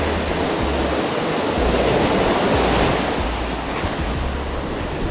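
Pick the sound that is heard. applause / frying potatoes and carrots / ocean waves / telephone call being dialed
ocean waves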